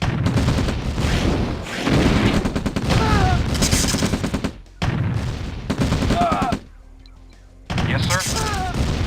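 Gunfire in Command & Conquer Red Alert Aftermath, dense bursts of rapid shots and booms from battle units, broken by short pauses and mixed with clipped unit voice responses.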